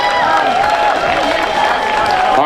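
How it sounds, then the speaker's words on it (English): An audience at a grand opening event greets a Vietnamese traditional dance group with applause and cheering; a dense, loud wash of claps and crowd voices fills the room, with tonal shouts rising above it. "give us a big round of applause"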